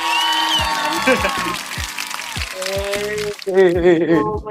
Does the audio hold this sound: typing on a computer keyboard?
no